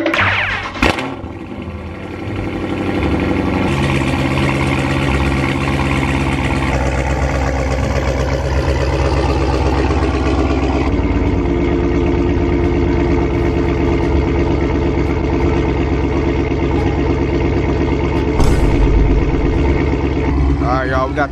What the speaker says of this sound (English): We're gonna let the car warm up right now. Like, listen to the idle